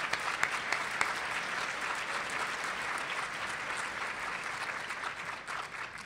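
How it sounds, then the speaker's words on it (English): Guests at a bar association MLK luncheon applaud the staff, broad steady clapping that sounds somewhat distant in a large hall and holds evenly for several seconds. "They really deserve your applause."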